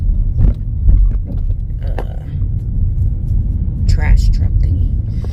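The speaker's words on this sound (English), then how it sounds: "trash truck thingy." Heavy low rumble of a garbage truck while driving past it near a shopping trip, steady and close with occasional louder surges, and a voice talking over it.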